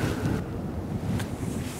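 Wind blows outdoors on a cold day, a loud steady low rumble buffeting the microphone with a brief gust swelling near the end, no voices.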